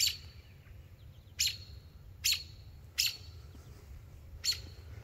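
Two robins in a tree chirp in sharp, bright calls, five short bursts spaced a second or so apart over a low, steady outdoor rumble.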